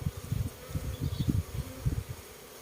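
Asian cavity-nesting honeybees swarm around a hive bucket, a dense, close, continuous buzzing with fluctuating hum and no talking.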